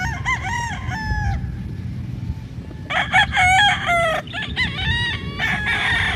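A mature rooster crows several times on a big farm in the Philippines, the drawn-out calls loud and close over a steady low background of other fowl clucking and farmyard noise.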